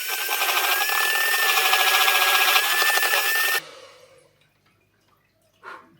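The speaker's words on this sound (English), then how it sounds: "I'm just gonna whisk this within an inch of its life." Brownie mixture of melted chocolate, butter and sugar whisked hard in a bowl, a rapid, steady scraping swish for several seconds that stops abruptly, followed by near silence and one short faint clink.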